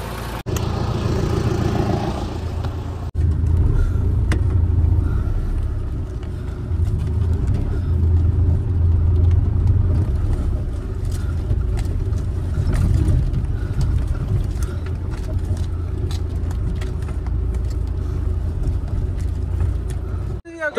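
Mahindra Thar off-road vehicle crawling over dirt in extreme off-road conditions, its engine a steady low rumble with occasional knocks and scrapes over about twenty seconds, with people talking at times.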